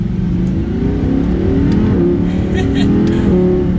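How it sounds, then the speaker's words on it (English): An Audi R8 V10 Plus revs with its exhaust in dynamic mode, a loud, steady, close engine roar that swells under a light throttle blip across the whole stretch. "We're gonna change the exhaust note here with it still in dynamic mode and give it a little bit of gas, nothing crazy."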